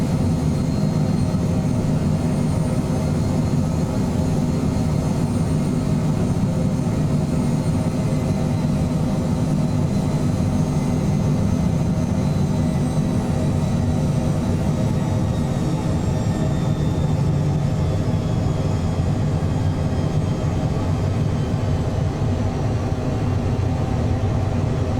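Phenom 100 business jet in Microsoft Flight Simulator 2024 rolling out after touchdown, a steady loud low engine roar and rumble that continues unbroken throughout.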